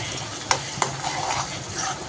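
A spoon stirs coriander and onion thokku frying in a pan, with a continuous sizzle and a few sharp scrapes and taps against the metal, close up and without voices.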